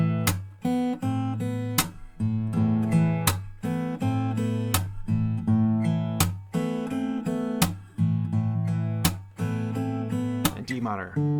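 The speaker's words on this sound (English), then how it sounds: "you can try to hit these melody notes once you're playing the strumming and try to build in the clap" An acoustic guitar strummed in a rhythmic groove, with melody notes picked between chords and regular percussive clap-like slaps, played close and steady for several bars with no talking.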